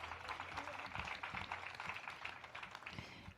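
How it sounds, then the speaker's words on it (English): Applause from residents gathered at an affordable housing celebration in Fort Stevens, honoring a resident: fairly faint, steady dense clapping sustained throughout, with no clear talk over it. "Please give her another round of applause."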